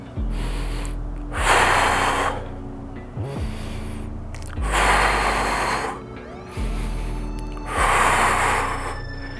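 Deep exhalations during a deadbug core exercise with a medicine ball, three or four long breathy rushes of air in a slow steady rhythm, close to the mic, with quieter inhales between them.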